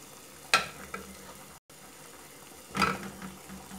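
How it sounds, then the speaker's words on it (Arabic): Food sizzles in a pan after salt and spices go in, for a pasta sauce, with a soft steady crackle and two brighter bursts of stirring, one early and one later. "نخليها تتقلى"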